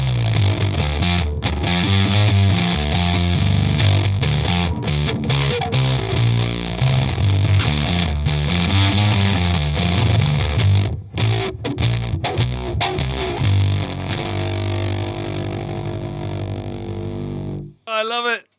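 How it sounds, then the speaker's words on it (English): Electric guitar run through a Red Mist MKIV distortion pedal, with loud, thick sustained riffs and chords that carry steadily for about seventeen seconds before cutting off abruptly near the end. "I'm enjoying playing this guitar through this pedal"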